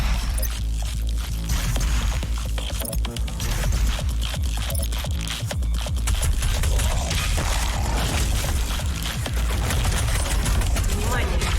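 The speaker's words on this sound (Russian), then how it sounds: "Внимание! Ведется стрельба из ВР-2000." Rapid bursts of VR-2000 gunfire in Doom Eternal crackle and clatter almost continuously, loud and close, with a dense mechanical, metallic texture throughout.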